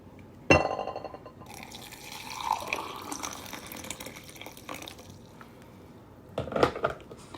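Water splashes and trickles into a cup over a few basil leaves for herbal tea, with a sharper clink at the start and a brief louder burst of liquid near the end.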